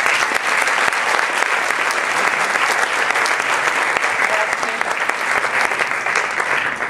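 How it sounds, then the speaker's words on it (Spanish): Steady, dense applause from a seated audience welcoming a speaker at a history lecture series in Oliva de la Frontera, sustained and even throughout with no voices over it. "Un aplauso para Dulce."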